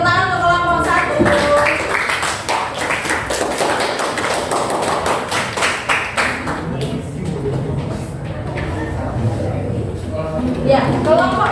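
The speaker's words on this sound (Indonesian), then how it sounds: "beri tepuk tangan untuk kelompok 1." Classroom applause for a student group that has just presented, a dense run of claps and taps through most of the stretch, with a teacher's voice speaking over it toward the end.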